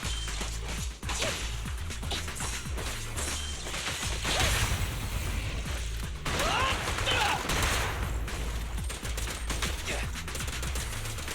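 Rapid gunfire and whooshing combat effects from the action video game Zenless Zone Zero, dense and continuous bursts layered with game music and clashing impacts throughout.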